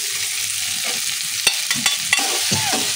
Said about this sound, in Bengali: এবার এটা একটু ভালো করে নাড়াচাড়া করে নিতে হবে।